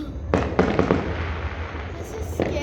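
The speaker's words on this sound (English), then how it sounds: "There's a whole lot of fireworks going on." Fireworks burst during a New Year's celebration, several sharp loud bangs close together near the start and another near the end, over a constant rumbling background of distant explosions.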